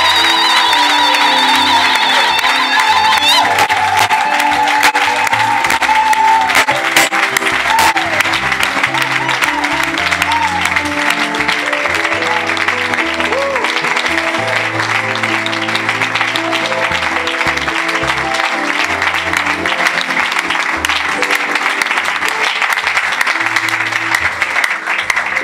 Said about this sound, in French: Donnez une forte acclamation au Seigneur.